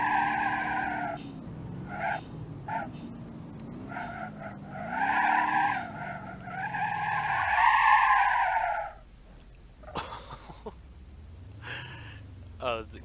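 Car tires in BeamNG.drive squeal in long, wavering skids as a fast car with weak brakes slides through corners, loud and sustained, followed by a quieter stretch with lighter scrubbing.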